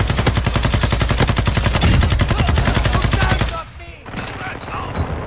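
Rapid automatic gunfire in Call of Duty Modern Warfare 2, a loud continuous burst of evenly spaced shots lasting around three and a half seconds before stopping abruptly, leaving quieter game ambience.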